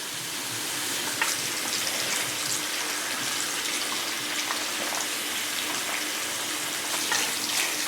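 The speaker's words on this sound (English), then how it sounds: "And then I start rinsing out for certainly 5 minutes." Running tap water pours steadily close by, a constant splashing hiss as hair is rinsed under the stream, with no talking.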